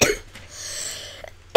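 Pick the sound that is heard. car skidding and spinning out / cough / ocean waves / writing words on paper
cough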